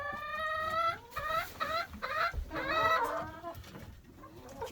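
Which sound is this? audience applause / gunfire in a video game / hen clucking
hen clucking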